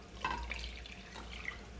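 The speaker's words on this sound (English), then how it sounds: "I'm going to actually do a couple of cups of water." Water poured from cups into a cooking pot already holding a can of milk for a tamale pie, a short splashing, trickling pour heard close and alone.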